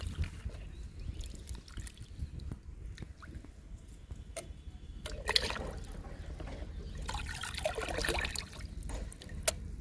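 Homemade liquid fertilizer of papaya peels, tea powder and egg powder is stirred in a bucket, giving faint, continuous sloshing and trickling with small splashy bursts near the middle and end.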